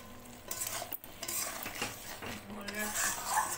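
Masala with salt for a prawn malai curry is stirred and fried in a pan, a spatula scraping in uneven strokes over a low sizzle, quiet and close.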